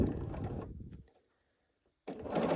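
A sewing machine stitches a seam from corner to corner across fabric pieces for a small sawtooth star quilt block, running in two short close bursts separated by a brief pause.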